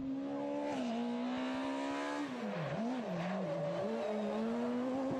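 Skoda rally car engine revving hard on a rally stage in San Marino, a loud strained whine climbing and dropping through gear changes, close and continuous with no talking.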